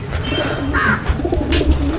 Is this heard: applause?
no